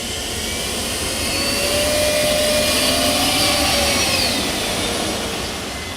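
A Chrysler turbine car's engine runs with a steady, loud jet-like whoosh and a high whine, the sound swelling slightly in the middle and easing off toward the end, with no voices over it.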